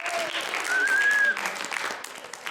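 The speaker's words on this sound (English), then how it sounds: "Everybody can clap for Kylie now." An audience applauds a guest named Kylie at a talk, a moderate even patter of many hands that swells and then thins out over a couple of seconds.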